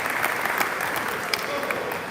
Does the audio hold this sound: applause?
yes